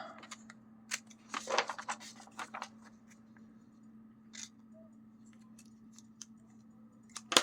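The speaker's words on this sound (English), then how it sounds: "scissors." Scissors snip through paper in a few quiet, scattered cuts, with a brief flurry of crisp snips early on and soft clicks afterward, in a hushed room.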